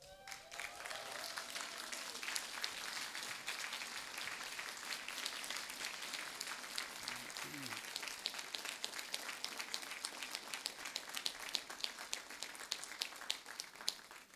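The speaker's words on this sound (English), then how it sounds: "let's stand and applaud our families and friends who are here to support us today" Graduates at a university graduation ceremony applaud their families and friends, sustained, dense clapping from a large crowd lasting throughout, fairly distant and even.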